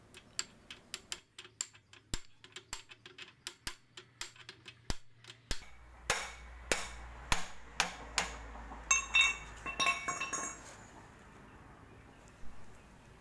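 A hammer taps bearings into a front-wheel-drive manual transmission, giving a long series of sharp metallic knocks, evenly spaced at first and then faster and clustered, close and fairly quiet, with no talking.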